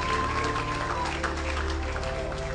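A church congregation clapping during a prophetic worship service, a steady wash of applause from the crowd under a sustained musical tone, with voices mixed in.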